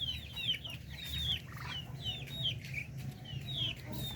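Many chicks peep together in a flock, repeating high, falling chirps close by over a low, steady background rumble.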